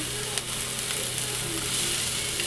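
Capsicum frying lightly in a small amount of oil, a gobi dish cooking at home, gives a continuous soft sizzle with faint scattered crackles, steady and close, with no talking.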